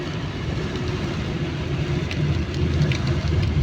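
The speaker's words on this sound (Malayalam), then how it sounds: "അതിശക്തമായ മഴ രാവിലെ മുതൽ" Heavy rain falling steadily over Baroda on a July morning, a dense, continuous wash of drops on surfaces with low rumble beneath, loud and unbroken with no voices.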